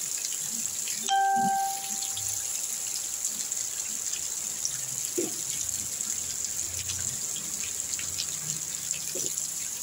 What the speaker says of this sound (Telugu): భలే పడుతుంది ఫ్రెండ్స్ వర్షం మట్టికి.